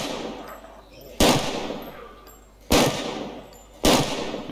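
Three loud, sharp rifle shots from a 7.62 gun in the zombie video game The Last Stand: Aftermath, evenly spaced about a second and a half apart, each with a quick decaying tail over a faint game backdrop.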